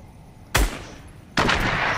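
Two sharp gunshots in Fortnite, the first near 0.5 s and the second near 1.4 s, each a loud broadband crack with a lingering tail over faint game ambience.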